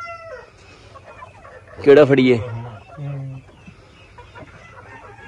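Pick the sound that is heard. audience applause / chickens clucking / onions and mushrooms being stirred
chickens clucking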